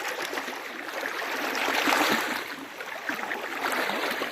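Floodwater from heavy rain pours across a dirt road in rural Pará, Brazil, making a loud, constant rushing wash that swells and eases slightly, close by and with no voices.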